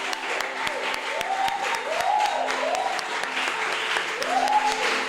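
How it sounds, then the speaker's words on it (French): Congregation at a church healing and deliverance service clapping in steady rhythmic unison, close and lively, with singing voices carried over the claps. "Acclame-le très très fort. Acclame-le pour ta victoire."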